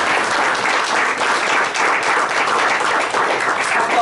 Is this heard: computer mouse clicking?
no